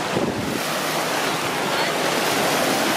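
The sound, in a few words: ocean waves at a beach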